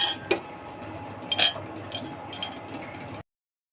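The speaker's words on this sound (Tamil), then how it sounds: "ஃபஸ்ட்டு இந்த அச்சு உள்ளே போட்டுக்கலாம்." Metal mould set inside a puttu steamer vessel on the stove, giving a few light metallic clinks and rattles over a soft background hiss, then silence.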